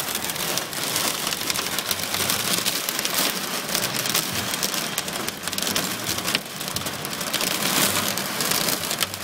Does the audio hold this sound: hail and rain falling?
yes